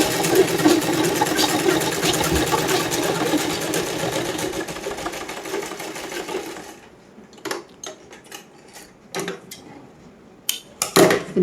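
A sewing machine runs a continuous fast stitch along the double-folded hem of an A-line suit, then breaks into short separate bursts of stitching with pauses between them, close to the microphone.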